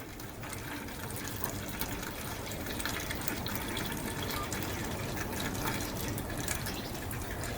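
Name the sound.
petrol flowing from Lambretta scooter fuel tap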